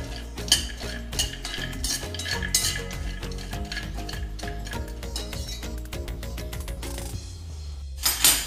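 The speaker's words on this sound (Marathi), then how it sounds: "त्याच्यामध्ये हे अक्रोड काजू बदाम हे टाकून घेऊया आणि जरा 1-2 मिनटं परतून घेऊया" Walnuts, cashews and almonds are stirred while dry-roasting in a pan for date barfi, giving a steady stream of close rattling, clinking and scraping of nuts and spoon against metal.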